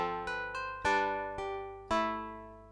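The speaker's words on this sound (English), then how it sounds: "Let's go back to that string synth sound we had at the beginning." A string synth patch plays a few plucky chords, each attack decaying quickly over a soft sustained low drone, fairly quiet and with no voices.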